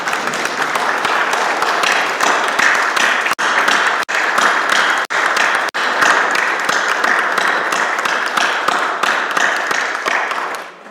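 A church congregation claps for the mothers standing among them, a sustained, dense round of applause with a few brief breaks, fairly loud and steady.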